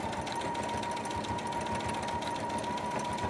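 A sewing machine backstitches back and forth over the end of a wig track on a breathable ventilated cap, a steady close mechanical whir running the whole time with a faint rapid stitching pulse and no talk.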